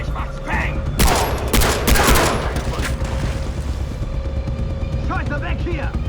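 Gunfire in the Far Cry 3 video game, a burst of several loud rapid shots over about two seconds followed by continuing game noise and background ambience, with a voice talking over it.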